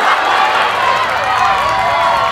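Crowd sound effect added in editing, a loud, dense wash of cheering, clapping and crowd noise that holds steady throughout, with no speech audible over it.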